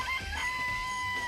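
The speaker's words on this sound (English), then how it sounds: "I remember there were some chickens at the chicken coop." Chickens in a chicken coop in the Danganronpa video game cluck and crow in a steady, close, game-audio loop under a sustained tone, with no talking.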